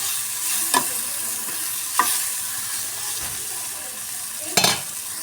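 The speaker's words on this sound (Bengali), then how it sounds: "মশলাটাকে আমি একটু পেঁয়াজের সঙ্গে ভালো করে ভেজে নিয়েছি" Onions and spices, including ground turmeric and a spice mix, fry and hiss steadily in a pan while being stirred, with a few sharper scraping clinks of the spoon against the pan, alone and fairly close.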